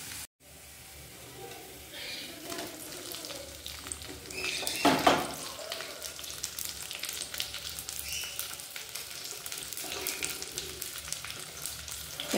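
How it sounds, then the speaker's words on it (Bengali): Sliced onion goes into hot oil already frying with ginger and garlic, a loud burst of sizzle that settles into a steady, close crackle with occasional stirring scrapes of the pan. "পেঁয়াজটাও দিয়ে দিলাম।"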